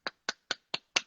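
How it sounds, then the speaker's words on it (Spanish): Five sharp claps spaced about a quarter second apart, each a crisp, close percussive burst with a quick decay, with no voices in between. "te voy a dar un aplauso"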